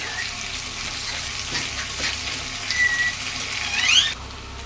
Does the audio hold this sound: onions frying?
yes